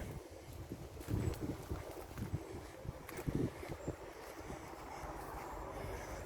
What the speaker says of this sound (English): Oh, another train coming,